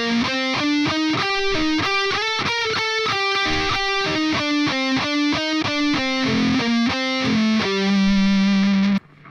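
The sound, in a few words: distorted electric guitar playing a chorus section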